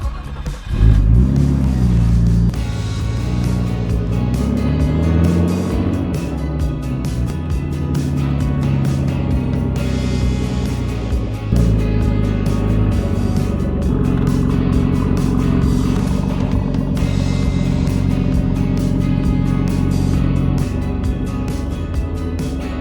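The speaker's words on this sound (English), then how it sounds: "let's go ahead and pull the R34 into the garage so we can slap on the new wheels" A Nissan R34 Skyline idles and creeps into a garage, its engine rumbling loud and close with a sharp rev at the start, then a steady throaty burble that swells again near the middle.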